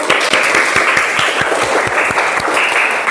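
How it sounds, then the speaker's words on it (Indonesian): A classroom group claps together in a steady, dense burst of applause at a teaching session, loud and continuous for about three seconds with no voices over it. "Tepuk tangan, yuk."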